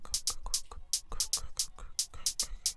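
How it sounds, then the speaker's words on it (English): Amapiano-style pre-chorus melody leading into the hook, heard as a fairly quiet loop with crisp, bright hi-hat-like hits in a steady groove over soft low thumps and no voices. "a hint kind of like a pre-chorus leading to the hook"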